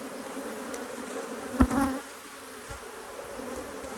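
Honeybees buzz inside a crowded hive at midday, a steady dense drone with a brief louder burst near the middle, heard alone without speech.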